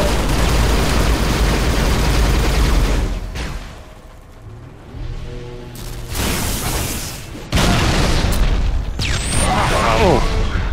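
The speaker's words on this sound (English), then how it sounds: "Whose grenade was that?" Loud, rumbling blast from a grenade in Halo: Reach, heavy low booms and crackling debris filling the stretch, a brief dip in the middle before another burst of explosive noise.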